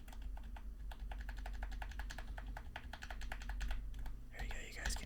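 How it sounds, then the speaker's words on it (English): Computer keyboard typing close up in a quiet room during an ASMR drawing session of Hatsune Miku, with rapid irregular clicks and taps in bursts, faint low murmured talk underneath and a brief rustle near the end. "you guys can hear my keyboard a little bit there."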